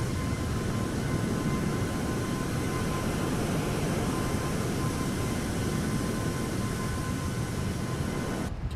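Steady broadband roar of a Boeing 757 climbing after takeoff in a flight simulator game, continuous and even in level throughout with no voices.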